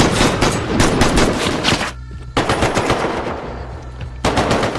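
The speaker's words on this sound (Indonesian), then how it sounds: "Aksi baku tembak itu" Sustained machine gun fire in a film shootout, dense rapid bursts rattling loud and close for nearly five seconds, with a brief lull in the middle before the firing resumes.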